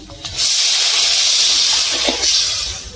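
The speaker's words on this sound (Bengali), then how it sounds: "এবার আমি জল ঢেলে দেবো" Water poured into a hot pan of eggplant and hilsa fish curry makes a loud, steady sizzling hiss that rises sharply and holds for a couple of seconds, close up.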